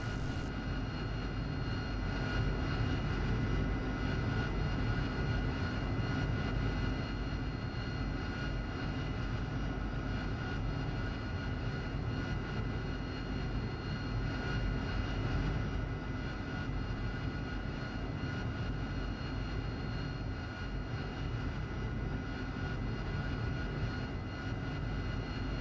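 Steady aircraft engine drone from a plane taxiing toward the runway in a combat flight simulator game, a constant loud hum running the whole time with no talking.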